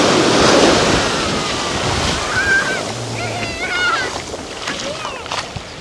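Sea waves rolling onto the beach at Puerto Galera, a steady wash of surf under strong wind noise on the microphone, with faint chirps and background voices in the distance.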